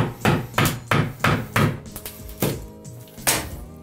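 Chisel prying and striking old tile off a bathtub wall, a run of loud, close, sharp knocks at a steady rhythm, then a few slower scraping hits, with no voices over it.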